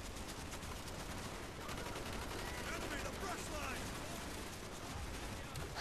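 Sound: gunfire in the video game Call of Duty: Black Ops

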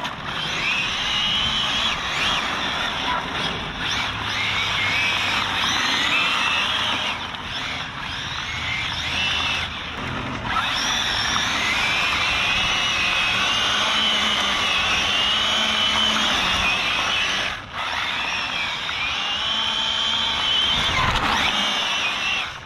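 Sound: car driving on bumpy parking lot, shredding a tire

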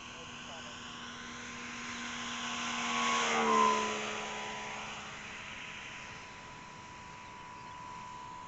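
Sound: radio-controlled LX P-40 model plane doing a low pass

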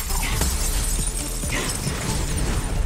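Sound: crystal smashing in Skylanders SWAP Force video game

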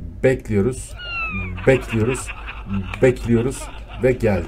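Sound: cat meowing

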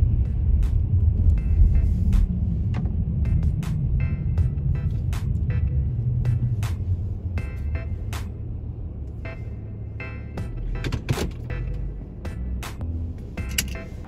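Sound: Honda car driving and stopping to park

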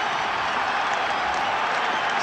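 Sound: rugby stadium crowd cheering

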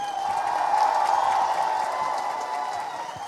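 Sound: audience applause at Hornbill Festival

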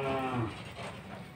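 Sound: native cattle bull mooing

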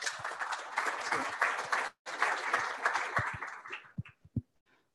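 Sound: audience applause for speaker

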